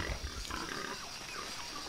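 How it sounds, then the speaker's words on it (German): Pigs grunting in the jungle of the video game Shadow of the Tomb Raider, a steady run of low snorting grunts close by over constant game ambience for about two seconds. "die Viecher sind so am Grunzen"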